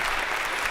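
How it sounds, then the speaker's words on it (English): A lecture hall audience gives a brief round of applause during a computer science lecture on memory, heard as a dense, steady wash of clapping. "Now a proper round of applause if we could."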